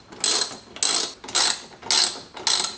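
Ratchet wrench turning 10mm bumper bolts on a Toyota Tacoma, five short bursts of rapid metallic clicking in an even back-and-forth rhythm, close and clear with no talk.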